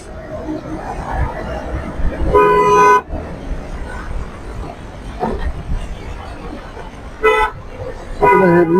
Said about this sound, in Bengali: বিআরটিসি বাস যাচ্ছে